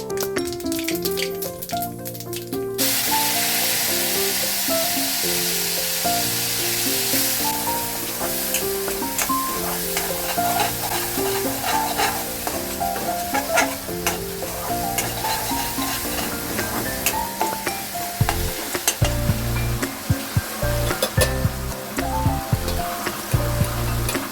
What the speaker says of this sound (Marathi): राई तडतडायला लागली.